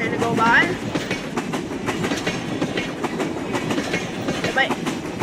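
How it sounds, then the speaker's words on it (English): An Amtrak train rolls by in the railway game Rails Unlimited, with steady clickety-clack of wheels and rail noise throughout, a faint horn-like tone early on, and a voice talking over it. "Now we're gonna have to wait for the Amtrak train to go by."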